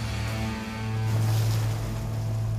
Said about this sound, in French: le vent se renforce encore un peu plus